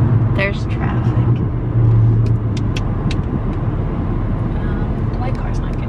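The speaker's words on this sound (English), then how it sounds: "There's traffic." Road traffic heard from inside a moving car, a loud continuous rumble of tires and engine filling the clip, with a brief surge in engine noise and a few faint clicks.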